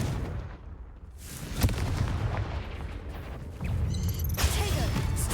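A Confringo fire spell from Hogwarts Legacy lets off booming blasts, with one sharp burst near the middle and a roaring, crackling surge toward the end over a continuous rumbling game soundscape.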